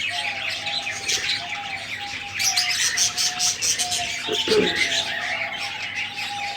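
Several parrots chirp and squawk nearby in a busy chorus, with short calls overlapping and a brief flutter partway through.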